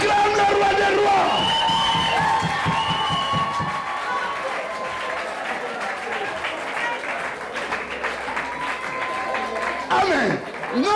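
Congregation at a prophetic church service applauding and cheering, a dense wash of clapping mixed with shouts and crowd babble, loud and sustained across the whole stretch with music-like tones woven through.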